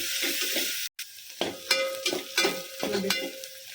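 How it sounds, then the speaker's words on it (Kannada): Chopped onions sizzle and fry in a hot pan for a methi bath, with a spoon scraping and stirring through them in several short strokes over a steady crackle. "ಇದನ್ನು ನೀಟಾಗಿ ಫ್ರೈ ಮಾಡ್ಕೊಳ್ಳೋಣ"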